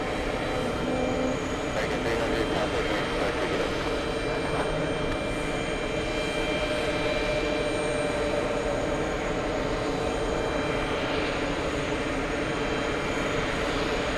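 Jet airliners roar as they take off at JFK airport, a sustained, loud broadband engine rumble with a whining tone that holds steady throughout the stretch, with no voices.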